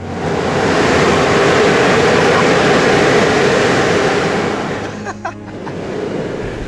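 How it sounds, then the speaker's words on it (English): Calm sea waves and gentle swells on a Spanish coast wash steadily and broadly, a continuous surf rush that fades slightly near the end as a brief faint voice passes. "the waves or the swells in the sea are not so like violent"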